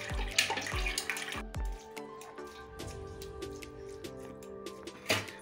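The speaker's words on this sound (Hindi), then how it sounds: "और ठंडा पानी से धो देंगे मैगी को पूरा अच्छा से।" Cooked Maggi noodles get rinsed under cold water in a mesh strainer, with steady running-water noise and dense splattering. Low thumps come near the start, and no one speaks.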